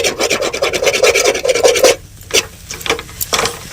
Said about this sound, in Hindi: अब आलू को हम इस तरह से मथल लेते हैं